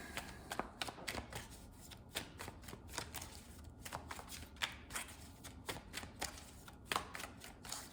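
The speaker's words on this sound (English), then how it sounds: "All right, one more shuffle for Virgo." Tarot cards are shuffled by hand in a quiet room, giving soft rapid riffling bursts and repeated flicks, close and fairly faint, with no talk.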